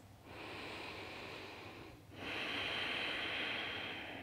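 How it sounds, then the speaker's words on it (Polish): Slow, steady breathing in and out through the nose during a yoga class's seated breathing exercise, one long soft inhale then a fuller exhale, close and alone with no talk. "I poprowadźcie kilka wdechów i wydechów przez nos."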